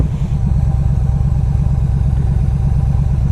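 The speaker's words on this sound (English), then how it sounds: "This bike runs good." A 2007 Yamaha V Star 1300 motorcycle engine runs steadily at idle, a loud, close, even low-pitched throb with a regular pulsing beat and no talk over it.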